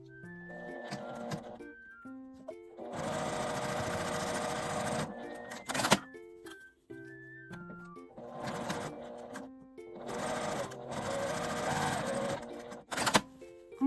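A sewing machine stitches 1 cm seams along the ends of a ribbon, running in two long, rapid mechanical stretches separated by short stop-start bursts, fairly quiet and close.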